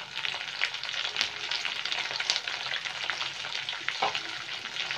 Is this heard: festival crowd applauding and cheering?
no